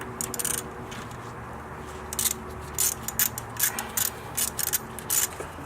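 A ratchet clicks in short bursts while tightening 10mm bolts on the alternator of a 2005-2009 Ford Mustang GT, quiet and close, with pauses between each run of rapid clicks.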